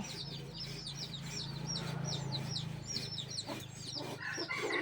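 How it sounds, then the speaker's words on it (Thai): A young hen clucks repeatedly in short soft bursts close by, with other fowl faintly around and low background rumble. "โมโมเป็นไก่น่ารักนะคะ กำลังอาจจะเป็นแม่ไก่ค่ะ"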